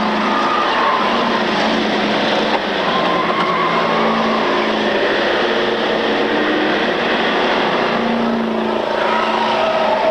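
Race cars lapping a short oval track, leaders coming up on lapped traffic, a continuous loud roar of engines with shifting tones as cars pass, no voices audible over the pack.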